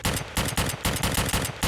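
Rapid, loud repeated gunfire in Escape from Tarkov, heard alongside the SVD rifle, a tight burst of sharp cracks in quick rhythm with no voices.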